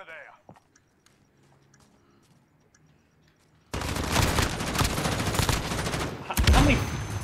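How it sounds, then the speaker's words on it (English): Video game gunfire in a military-style multiplayer match breaks out after a quiet stretch, a dense, loud, continuous barrage of rapid shots that carries on to the end. "How many shots does it take to kill that guy?"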